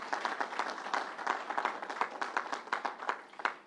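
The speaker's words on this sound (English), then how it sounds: "Let's give them a round of applause." Steady applause from a crowd at a COVID-19 vaccination event, many hands clapping continuously at moderate distance with no voices over it.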